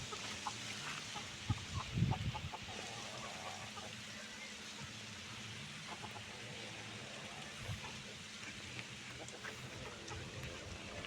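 Native country chickens kept in a garden cluck softly and sporadically, with a few sharper calls early on over a faint, steady outdoor background.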